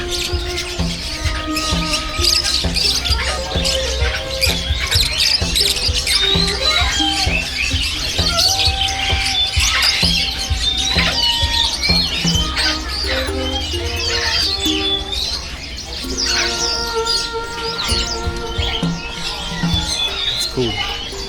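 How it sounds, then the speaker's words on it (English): Dense chorus of caged birds at a Hong Kong bird market, many chirps, tweets and squawks overlapping continuously and loudly throughout, with a busy market hum underneath. "There are so many different birds."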